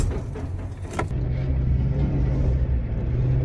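An old truck's engine idles with a steady low rumble and hum, loud and close, after a brief burst of handling noise near the start, running without a break.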